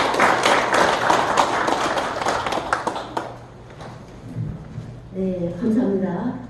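Applause from an audience at a book launch honouring an author of two history books, a dense crackle of many clapping hands filling the room for about three seconds before fading, then a voice speaking.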